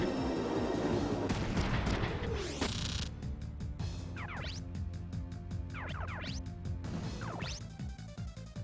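Weapon fire in Front Mission 3 video game: a burst of crashing gunfire and impacts early on, followed by repeated sweeping electronic zaps over a steady musical backdrop.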